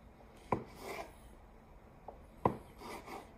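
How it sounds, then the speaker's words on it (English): A chef's knife cuts rolled pasta dough into fettuccine on a board, with two distinct soft thuds about two seconds apart, each followed by a quieter scraping rub, close and faint. "You cut with your chef's knife whatever width you want your fettuccine, linguine, whatever it is to be"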